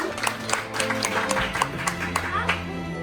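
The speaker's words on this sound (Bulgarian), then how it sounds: "Аплодисменти за Петю" Applause for Petyu at a school graduation celebration, with a crowd clapping in a brisk, fairly even rhythm over sustained background music tones.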